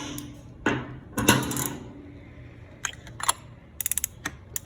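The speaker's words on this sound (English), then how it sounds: "the next step is going to be grabbing the appropriate size oil filter socket" Tools and a ratchet with an oil filter socket handled during an oil change on a Kawasaki Ninja ZX-6R: a few metallic clinks and clatters, then a quick burst of ratchet clicks, close and moderately loud.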